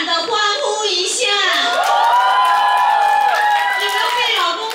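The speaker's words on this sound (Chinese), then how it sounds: "有同感的欢呼一下" An audience at a corporate party responds to a speaker, a loud burst of high, excited cheering and shouting voices that swells and sustains for several seconds.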